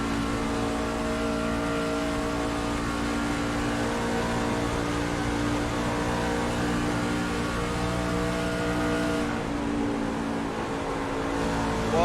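Onboard engine roar from a racing truck at Las Vegas Motor Speedway, a loud, steady drone with strong harmonic bands running the whole time and a slight dip in pitch near the end, with no voices.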